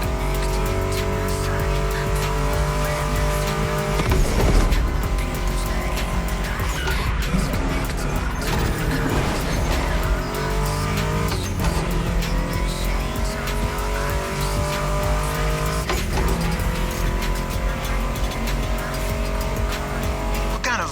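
Muscle car engines, including a Ford Mustang GT, roar and rev continuously in the video game The Crew Motorfest, with tires squealing and skidding over a loud, dense mix that sounds like racing action.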